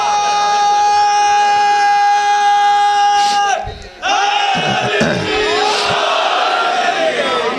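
An audience at a Muharram majlis chants a religious slogan, a loud, massed roar of voices that swells and continues after a short pause, following a sustained, resonant vocal tone.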